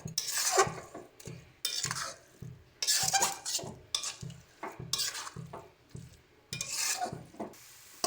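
Jaggery filling for patishapta being stirred in a wok, rhythmic bursts of scraping and rubbing from a spatula against the pan, repeated roughly every second with brief pauses, close and fairly loud, no voices.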